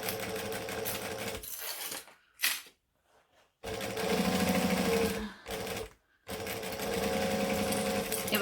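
Sewing machine stitching an appliqué on a Sallie Tomato circle bag, running in steady close bursts with brief pauses between seams.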